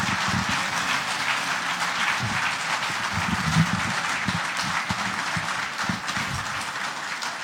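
Steady audience applause welcoming former quarterback Warren Moon onto a university panel stage in Regina, a continuous even patter of many hands at moderate volume throughout.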